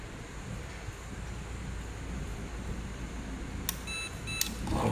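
LAN network encoder giving two short, sharp electronic beeps near the end as its button is long-pressed with a stick, heard over steady wind-like background noise.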